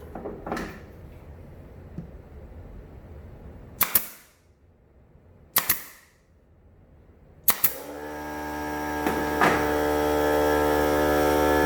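A few sharp pops from a Banks 23-gauge pin nailer give way to an air compressor motor. The compressor kicks on and drones loudly and steadily, its hum building slightly until the end.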